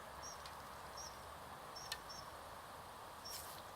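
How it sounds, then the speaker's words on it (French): Small birds chirp now and then in quiet outdoor surroundings at an archery range, faint and distant over a steady background hush, with no talking. "là on entend les petits oiseaux"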